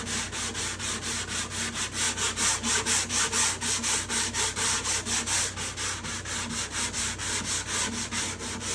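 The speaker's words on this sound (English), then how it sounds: "this sandpaper is pretty aggressive stuff" Coarse, aggressive sandpaper is rubbed over wood in fast, steady back-and-forth strokes, a loud, close, continuous rasping with an even pulsing rhythm and no talk.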